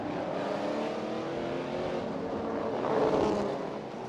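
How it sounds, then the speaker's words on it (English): Race cars on a Thai street circuit weave left and right to warm their tires during a slow lap, a steady engine drone rising slightly as one draws nearer, fairly distant under crowd and track ambience. "car warming up the tires as they go twisty, in and out, weaving left and right."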